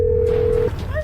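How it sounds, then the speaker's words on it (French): A telephone gives one steady electronic tone for under a second, fairly loud over a background hum, then cuts off. "tu entends le téléphone et il vient vers moi"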